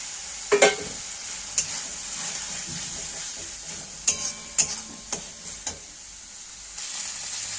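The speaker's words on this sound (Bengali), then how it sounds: "মশলাটা প্রায় কষানো হয়ে আসছে, এবার আমি আলুটা ভেজে রেখেছিলাম, আলুটা দিয়ে দেব" Masala sautéing in a pan for an egg and soybean curry, with previously fried potatoes going in: a soft sizzle runs under several sharp spoon scrapes and clatters against the pan.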